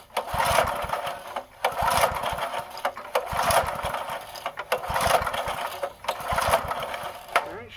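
A 1990 Task Force 5hp rototiller engine is being pull-started, producing a series of evenly spaced rough cranking bursts roughly every two seconds without catching, with some voice nearby.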